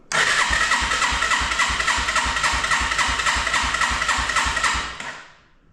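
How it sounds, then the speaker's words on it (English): A 1987 Yamaha TrailWay 200 motorcycle engine is turned over on its electric starter with the throttle wide open during a compression check. It gives a loud, close, rhythmic cranking chug that runs steadily and then winds down without the engine firing. "we can go ahead and use the electric start to turn it over faster and get a reading"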